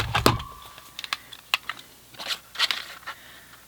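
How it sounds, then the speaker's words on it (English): A 2-inch paper punch cutting cardstock while a Halloween tag topper is made, heard as a quick scatter of sharp, close clicks and snaps of varying loudness, with no talking. "I'm going to punch my 2 inch out of pumpkin pie"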